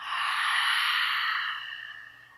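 A person in a chair yoga breathing exercise exhales slowly through an open mouth to imitate an ocean wave: one long, breathy whoosh that holds steady, then gradually fades away.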